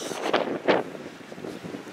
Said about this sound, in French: Il fait froid actuellement et il y a beaucoup de vent.